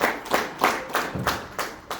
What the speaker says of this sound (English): This is where you get Primerica a round of applause,